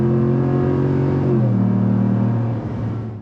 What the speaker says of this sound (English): so you can probably hear that exhaust